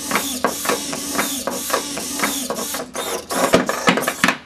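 Joinmax servo motors in a robot snake whir and click in short mechanical bursts as it wiggles, with busy, uneven pulses and sharp ticks close up.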